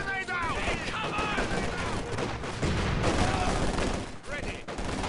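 Gunfire in the Company of Heroes 2 video game, dense bursts of rifle and machine-gun fire mixed with explosions during a battle, continuous and loud, while soldiers' voices shout over it.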